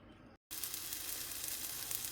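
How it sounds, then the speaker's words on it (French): Onions sizzle steadily in a hot frying pan, a bright continuous hiss that cuts out for a split second near the start, then resumes close and unbroken with no voices. "je vais faire revenir des oignons un peu à la poêle pour qu'ils soient un petit peu cuits et un peu dorés"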